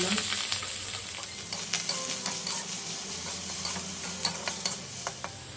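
Ginger and onion sizzle steadily in hot oil in a pan, a continuous close frying hiss with occasional light clinks and stirring taps.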